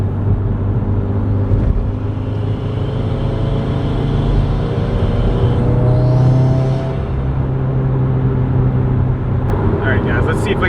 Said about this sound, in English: get a nice third gear pull here